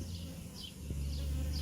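A swarm of honey bees flying in the air near a hive box, a low continuous buzzing hum close by with a few higher whines drifting past as individual bees fly near.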